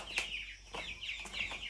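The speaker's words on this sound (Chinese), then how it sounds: "这边的小鸡。" Chicks moved into a cleaned chicken shed on a hillside for free-range rearing, a steady chorus of shrill, repeated cheeping that is faint and close.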